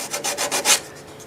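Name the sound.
hand sanding edges of a turned wet cherry wood bowl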